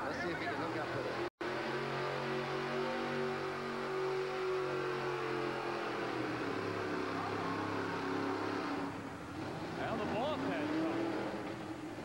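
An alcohol-injected shotgun Hemi in a 1987 USHRA monster truck at Phoenix, a truck that has been having problems, roars loudly and steadily with a brief dip near the end, under continuous arena commentary.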